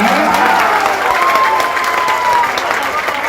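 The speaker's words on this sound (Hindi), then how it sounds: "एक बार आप ताली बजाइए" A crowd claps and cheers at a Jan Suraaj political meeting in Gaya, Bihar, a loud, continuous roar of hands with voices mixed in throughout.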